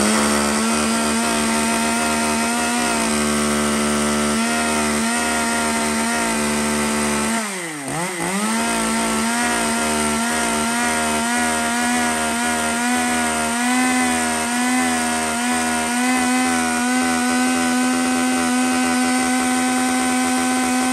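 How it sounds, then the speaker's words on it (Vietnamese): A Japanese chainsaw runs loud and steady close by, its engine note dipping briefly as it bogs around midway before recovering to a sustained high whine while cutting wood, with no voices. "Các bác bấm giật nổ phát các bác cưa như rất là nhẹ nhàng"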